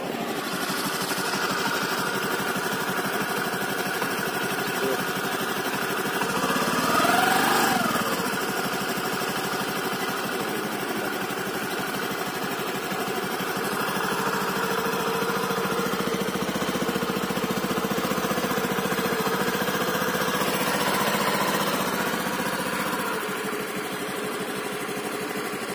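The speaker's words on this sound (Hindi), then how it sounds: "यहाँ पर स्कूटर की आवाज़ को देख लेते हैं कैसी आती है इसकी आवाज़" A 2021 Honda Activa 6G 110 cc scooter engine runs steadily at a close, even idle with a buzzy, continuous drone and a faint passing whine midway; no talking.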